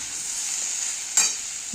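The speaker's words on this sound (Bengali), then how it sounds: "একটু মাখা মাখা তৈরি করার জন্য একটু গরম জল আমি ঢেলে দেবো" Hot water poured into frying kohlrabi curry, heard as a soft continuous sizzle and bubble of oil, then a brief sharper splash and hiss near the end, with nobody speaking.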